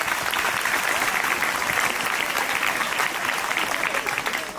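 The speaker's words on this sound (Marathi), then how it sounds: "सगळ्यांसाठी जोरदार टाळ्या" An audience at a theatre-based personality development workshop claps loudly and steadily, a dense, even wash of applause that holds at full strength and tapers slightly at the end.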